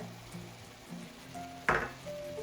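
Oyster sauce hits a hot pan of prawns and fresh shiitake mushrooms in a stir-fry, giving a sudden sharp sizzle burst that fades back into a quiet, steady frying hiss with faint utensil clinks.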